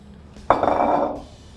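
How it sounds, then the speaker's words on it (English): Cake batter for a pineapple upside-down cake is poured into a Lodge cast iron pan, a single close, soft rushing slide of less than a second that fades away. "So we've just got a Lodge cast iron pan here. And in with the mix."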